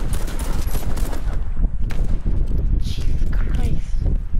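Enemy gunfire in the online shooter Warface comes as fast, steady bursts that mix with footstep-like thuds and other game noise, with a loud, continuous texture throughout.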